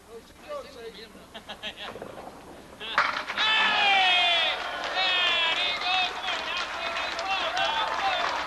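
Candlepin bowling alley crowd cheering a strike in a 1998 match between brothers Mike and Tom Morgan: after a few seconds of quieter murmur, a loud burst of whoops and shouting rises and holds steady, dense and close.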